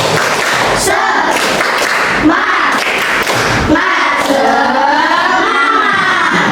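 Classroom group doing a rhythmic spirit clap, bursts of hand claps and thumps in a patterned beat, with children's chanting voices mixed in throughout.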